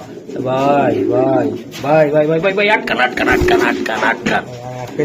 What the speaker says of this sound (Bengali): এই যে আরেকটি কবুতর